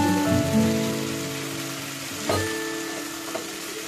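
Spice masala sizzles in oil in a pan as boiled chicken is added, giving a steady close hiss with a soft thud partway through and no voices.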